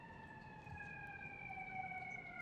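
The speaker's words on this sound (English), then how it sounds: "if you hear all the sirens outside, that is not in my apartment" Faint emergency vehicle sirens wail outside an apartment, a steady high tone drifting slightly downward, heard at a distance through walls.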